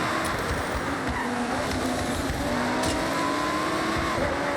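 A low-end S1-class race car engine in Forza Horizon 6 during a nighttime race, droning steadily and loudly with a rising and falling engine pitch and road roar, continuous throughout.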